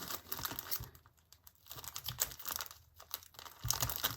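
Plastic craft packaging bag holding wired ribbon being cut open, close and faint crinkling and rustling of plastic in uneven bursts with brief scissor snips.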